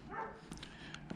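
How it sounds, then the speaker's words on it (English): A dog that has just been woken gives a few short, faint barks at a distance. They are spread over about a second and sit against steady background noise. "sounds like I woke the dog up."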